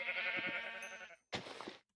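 A Minecraft sheep bleats twice, a long wavering bleat followed after a short gap by a briefer one, clear and close.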